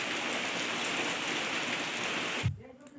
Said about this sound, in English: now it's totally raining